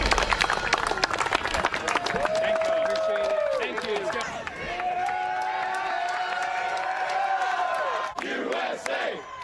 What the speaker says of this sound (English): all these people start clapping and cheering as they have the flag preserved, and it goes back up on the flagpole